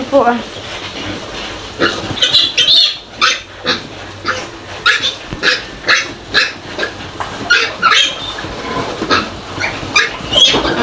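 Piglets squeal and grunt noisily while jostling to suckle from a sow in a pen, a rapid string of close, loud, pulsing cries throughout with some voice underneath.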